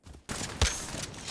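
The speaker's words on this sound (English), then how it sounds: "Target spotted. Firing." Gunfire in the video game Apex Legends, a burst of rapid shots kicking in abruptly with one heavy thumping impact, close and loud over steady game ambience.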